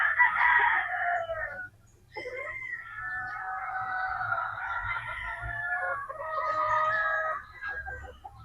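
Gamefowl roosters and pullets at a game farm crowing loudly and close by in long drawn-out calls, one after another, with soft clucking in the background and no talk.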